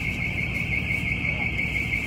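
A car alarm near an old Golf sounds a steady, continuous high electronic tone, loud and unbroken, with a faint voice underneath.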